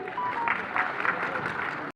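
Crowd of party workers at a rural election rally applauding to welcome officials, a steady wash of clapping filling the room under a speaker's voice.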